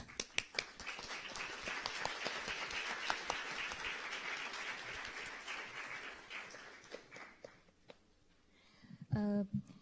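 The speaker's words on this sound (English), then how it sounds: "so we see him off with applause." A room full of people at a UNESCO youth conference on sustainable development education applauds steadily for several seconds, the clapping gradually thinning out and fading toward the end, followed by a brief voice.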